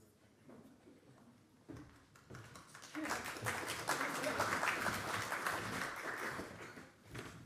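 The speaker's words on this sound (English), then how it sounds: "We'll send that audio recording of the clapping to Mike." Audience clapping rises from scattered claps into sustained applause at a livestreamed event opening, moderately distant, after brief talk at the start.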